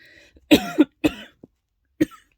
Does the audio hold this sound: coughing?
yes